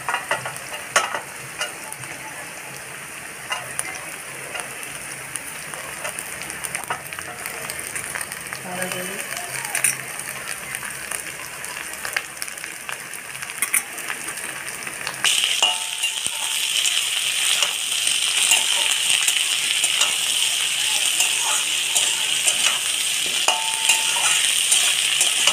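Beans, cabbage and capsicum stir-fry in a pan for a broken-wheat dish: a continuous sizzle with scraping stirs throughout, growing louder and brighter about two-thirds through as the vegetables go in, heard close with no talking.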